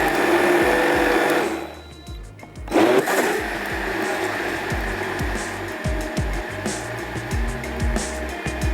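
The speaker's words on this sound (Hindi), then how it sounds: "एक दफ़ा और मैं इसको थोड़ा सा ब्लेंड कर देती हूँ" A kitchen blender whirs through a mango and moong daal halwa mixture, loud and close, pausing briefly before it starts again with a rougher, churning grind as the blades work the thick mix.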